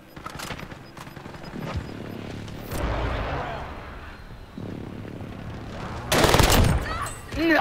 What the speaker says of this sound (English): Watch the window, there's someone that's sniping at the...